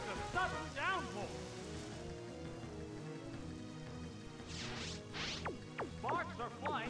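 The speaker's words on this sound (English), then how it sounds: "There is a sudden downpour" A sudden downpour in a Pokémon video game battle, a soft hiss of rain under chiptune music with synthetic sweeping and zapping effects layered on top.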